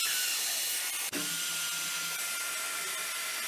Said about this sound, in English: let's bust out the power tools